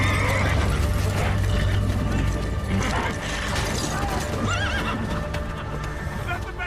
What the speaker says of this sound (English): The 19-year-old Nakia couldn't even mount the horse.